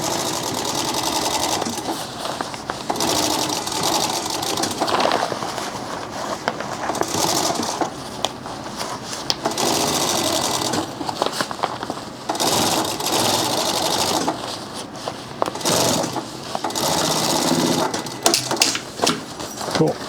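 A sewing machine stitching through several thick layers of backpack material, running in a continuous fast mechanical chatter with small shifts in speed throughout, close and fairly loud.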